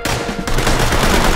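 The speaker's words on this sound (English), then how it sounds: "someone fucking shooting in the top" Loud, dense gunfire in the tactical shooter game Ready or Not: a rapid burst of close, harsh shots fills the whole moment without pause.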